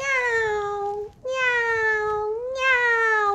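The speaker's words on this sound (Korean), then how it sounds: "아기 고양이는 어떻게 움직이지? 귀여운 아기 고양이는 야옹!" A kitten meows in three long, drawn-out cries, loud and close, with brief gaps between them during a children's music and animal play class.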